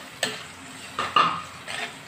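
Shallots, garlic, green chilies and curry leaves fry for a Chettinad-style shark fish kuzhambu, a soft sizzle under a few sharp spatula clinks against the pan, close, with no talking.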